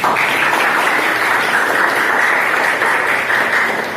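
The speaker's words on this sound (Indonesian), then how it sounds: "Tepuk tangan" Steady, close applause from a group in a classroom-style session, dense clapping sustained evenly for several seconds with no talk over it.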